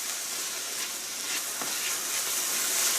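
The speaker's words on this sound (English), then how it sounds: "You're just going to hit that until it stops sizzling." Chopped mushrooms sizzling in a hot pan for spaghetti sauce, a loud, steady crackling fry that swells slightly toward the end with no talking over it.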